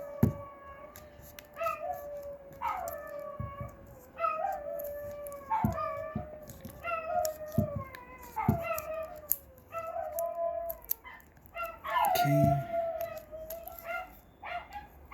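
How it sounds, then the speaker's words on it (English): Several dogs howl together in a wolf-like chorus, long rising and falling wails overlapping with occasional yips and barks, close by and fairly loud, with no talking. "Those are my dogs. They're wolves."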